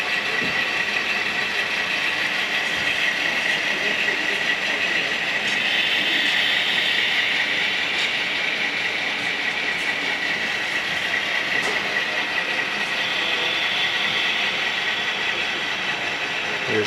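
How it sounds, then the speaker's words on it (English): Model trains, including a long auto rack train, run steadily on a model railroad club layout with a continuous whirring hum and occasional light clicks, close by and fairly loud. "we got trains revved up,"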